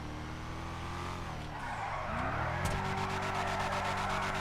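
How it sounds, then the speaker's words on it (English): A car drifting through a course, with its engine revving and tires squealing and skidding over a steady engine drone, close and fairly loud. "That was a perfect drift, by the way."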